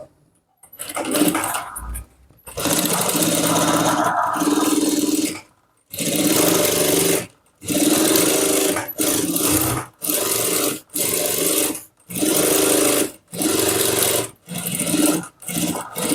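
Sewing machine stitching a men's shirt collar runs in about ten loud, close bursts of rapid whirring, each lasting a second or several, separated by brief silent pauses.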